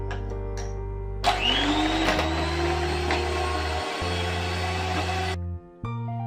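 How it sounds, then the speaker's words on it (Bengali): A mixer grinder whirs at high speed blending a lemon juice drink, its loud motor drone starting abruptly and running steadily for about four seconds before cutting off, set against a low background hum. "এবার এটাকে ব্লেন্ড করতে পারেন অথবা গ্রেট করতে পারেন মিক্সারে"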